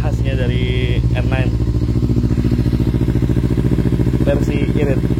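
Kawasaki Z250 Special Edition motorcycle engine idling steadily nearby with a fast, even rhythmic throb and some vibration clatter, while people talk briefly over it.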